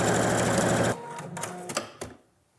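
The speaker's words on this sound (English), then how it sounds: "sew this side with a 1 centimeter or 3/8 of an inch seam allowance" A sewing machine stitches a dress side seam in a fast, rapid whir for about a second, then stops with a few short clicks and taps before falling quiet.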